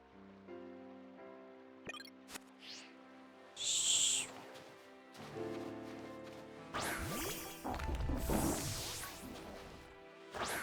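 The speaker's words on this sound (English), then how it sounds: "that bird was out for blood." Battle effects from the video game Pokémon Scarlet as a bird Pokémon attacks, with sharp hits, whooshes and crashing impacts layered over game music, the busiest and loudest stretch coming near the end.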